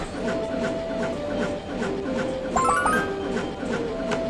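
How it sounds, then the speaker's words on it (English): A cartoon train moving fast in a Baby Panda children's video game, giving a steady rolling hum with rhythmic clatter and a short bright chime partway through, under soft game music. "The train is moving fast."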